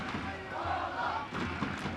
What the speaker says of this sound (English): Big chant going up from the Dutch crowd.